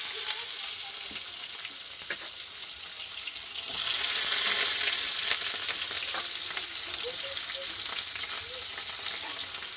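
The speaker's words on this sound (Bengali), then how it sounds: "পটল ভাজা দিয়ে দিলাম" Pointed gourd slices fry in oil in a wok with a steady hiss that jumps louder a few seconds in as they go into the pan, then holds as a continuous close sizzle.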